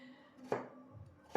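Knife chopping potatoes on a cutting board in a home kitchen, two sharp, distinct strikes about a second apart, crisp and close against a quiet background.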